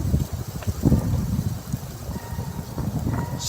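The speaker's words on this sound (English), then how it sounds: "Can you guys even hear me over the wind?" Wind buffeting a microphone outdoors near an old farm, a steady low rumbling roar with gusty surges throughout.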